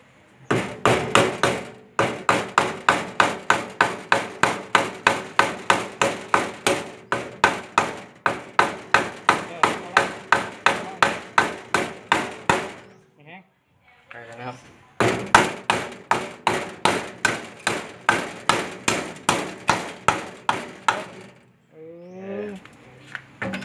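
Loud, rapid hammering on metal parts during repair of a Central Air CCS-PF18 home air conditioner with weak cooling, dozens of sharp evenly spaced blows in two long bursts separated by a short pause, with brief voices in the gaps.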